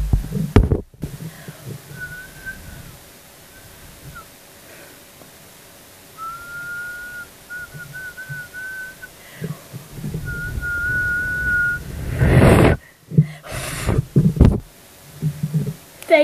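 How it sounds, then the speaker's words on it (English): A lone person trying and failing to whistle indoors, producing thin, wavering breathy tones in short broken bursts, with a few loud bumps and rustles near the end. "Failing at whistling."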